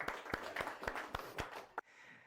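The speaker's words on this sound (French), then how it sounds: "on peut les applaudir bien" A small audience claps in a few distinct, evenly spaced beats, quiet and close, stopping abruptly after about seven claps.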